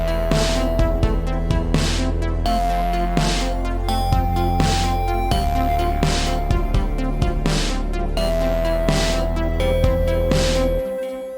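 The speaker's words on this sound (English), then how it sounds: "Right now, the arpeggio sounds like this." Synth arpeggio running from the Pigments sequencer, a loud continuous stream of quick repeating bright notes over a sustained low bass, steady and unbroken with no voices.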